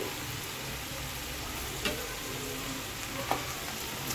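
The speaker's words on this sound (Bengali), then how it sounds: "আলুগুলোকে কিন্তু বেশ লাল করে আমি ভেজে তুলে নেব" Potatoes fry in hot oil in a village kitchen, giving a steady, dense crackling sizzle throughout with a couple of brief sharper pops, close and continuous, with no voices.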